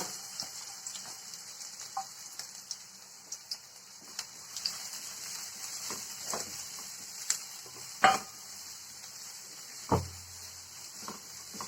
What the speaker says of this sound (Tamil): எண்ணெய் காஞ்சிருச்சு. வெங்காயத்தை வதக்கிக்கலாம்.